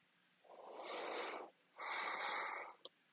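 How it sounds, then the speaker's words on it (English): Breathing during a desk stretching routine: one slow, airy breath in and one breath out, each about a second long, close to the microphone and soft, with a faint click at the end. "Keep breathing."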